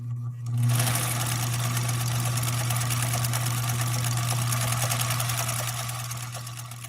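An embroidery sewing machine stitches a design in a steady, fast, continuous whirr with a strong low hum, loud and close, running alone without talk for the whole stretch.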